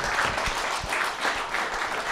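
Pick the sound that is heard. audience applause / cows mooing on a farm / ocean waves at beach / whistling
audience applause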